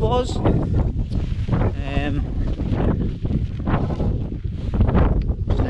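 Wind buffets the microphone on an exposed hilltop in the Cheviot Hills, a loud continuous roar with a voice talking over it.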